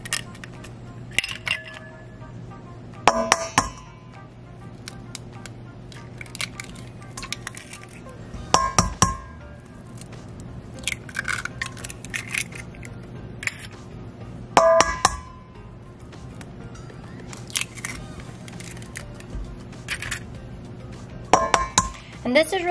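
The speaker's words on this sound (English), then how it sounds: "So now I'm just going to break each egg open. And then I'm going to mix them all together." Eggs cracked one by one against a bowl and then mixed for make-ahead breakfast burritos make sharp clinks and taps at irregular intervals over a low steady hum.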